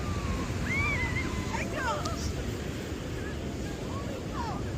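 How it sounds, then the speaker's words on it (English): Waves breaking on Iceland's black sand beach, a steady loud roar of surf mixed with wind buffeting the microphone, continuous throughout with faint distant birdlike calls above. "Don't turn your back on the waves here, people."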